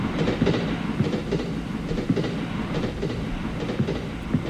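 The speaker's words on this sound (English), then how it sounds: "Oh, there goes the train again." Train rolling past in a Japanese horror video game, a close, rumbling clatter of wheels over rail joints with repeated rhythmic clicks, fairly loud and continuous with no talking.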